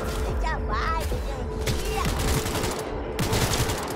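Rapid automatic gunfire in the video game Cyberpunk 2077, loud bursts of shots with bullet whizzes and impacts, broken by short pauses, while a player talks briefly over the action.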